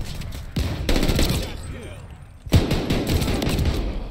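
Rapid gunfire in Call of Duty: Vanguard gun game on the Hotel Royal map, bursts of automatic shots and single cracks mixed with game effects, with a player talking over the action.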